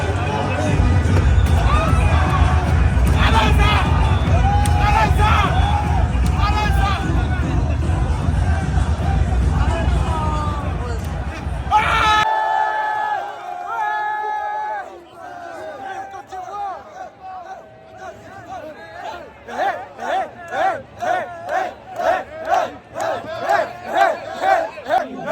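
Ivorian football fans in a stadium crowd roar and chant loudly, then a rhythmic pulsing chant of cheering voices rises in repeated bursts close by.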